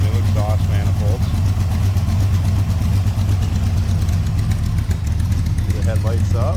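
A 1966 Chevrolet Corvette convertible's 327 V8 with new exhaust manifolds idling, a steady low rumble throughout, loud and close, while someone talks over it.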